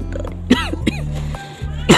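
A few short, sharp coughs, spaced out and close by, over a quiet low hum.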